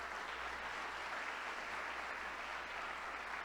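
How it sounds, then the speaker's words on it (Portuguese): Congregation at a Saturday healing church service applauding, a steady dense wash of clapping from many hands, fairly distant and even, with no speech over it. "Vamos aplaudir ao Rei."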